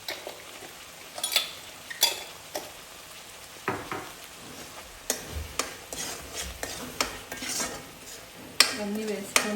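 Spices are stirred into a curry in a metal pan, with scattered scraping and clinking of a spoon against the pan over a soft background sizzle, close and moderately quiet.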